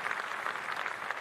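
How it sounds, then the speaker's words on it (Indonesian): An audience at the iNews Media Group launch event keeps up a steady wash of applause, even and moderately distant, without a break. "Boleh kita berikan tepuk tangan sekali lagi yang paling meriah"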